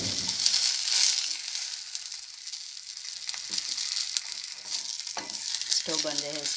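Fish 65 sizzles steadily in a pan with only a little oil, a close, continuous crackling hiss with a few louder spits, and a brief voice toward the end.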